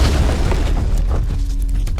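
A loud, deep animated explosion effect booms alone, with a dense low rumble that stays heavy for about two seconds and a crackling burst at the start.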